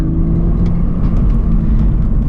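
A manual BMW Z4 with about 225 horsepower accelerates hard, its engine a steady, loud rumbling drone with a faint rising tone and light road noise, no voices over it.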